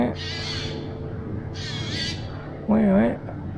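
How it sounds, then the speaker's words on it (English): A crow caws in a forest: a few harsh, nasal squawks spaced apart, the last one loudest, over steady low background noise. "Crow."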